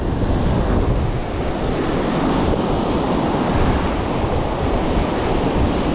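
Ocean surf breaking on a beach at a rock-and-surf fishing spot, heard as a steady, loud, close roar of white water with wind buffeting the microphone throughout.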